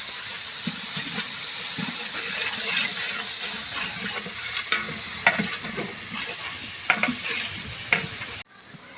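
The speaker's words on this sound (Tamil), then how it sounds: "புதினாவும் முக்கால் கட்டு புதினா சேர்த்துட்டு நல்லா வதக்கி விட்டுக்கலாம்" Mint leaves are sautéed in a large pot for a 5 kg beef dum biryani. A steady, close hissing sizzle carries scattered scraping clicks from stirring, then cuts off abruptly near the end.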